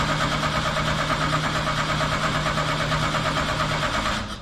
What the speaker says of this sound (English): I'm going to use our remote starter to crank the engine.